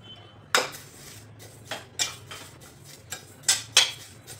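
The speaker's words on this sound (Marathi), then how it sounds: "तीळ पण असे छान खरपूस भाजून घ्यायचे. आपल्याला लो फ्लेमवरती भाजून घ्यायचे." Sesame seeds roasting in a pan over a low flame, heard as a handful of sharp metallic scrapes and clinks of a utensil against the pan at irregular intervals, close and fairly quiet, with no voices.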